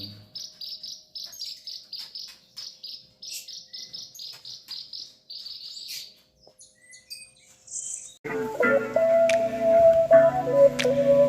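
Rapid, high-pitched bushlark chirps repeat in quick trilling phrases at a bird farm, then a denser mix of louder calls and whistles takes over near the end.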